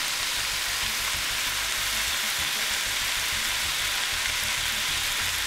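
Steady loud sizzle of chili cooking in a pot as chili powder goes in for a jalapeño chili, a continuous hiss with no talking.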